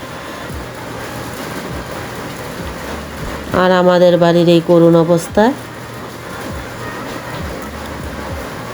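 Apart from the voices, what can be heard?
heavy rain falling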